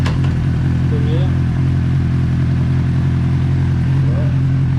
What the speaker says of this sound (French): On démarre la moto.